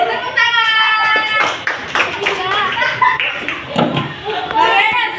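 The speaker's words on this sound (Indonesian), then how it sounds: "Oke, tepuk tangan." Children clapping their hands in a classroom lesson, irregular claps mixed with lively kids' voices and chatter, fairly close and loud.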